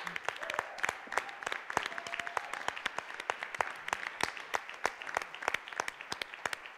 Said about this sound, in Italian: venire qui in scena con me e prendervi un applauso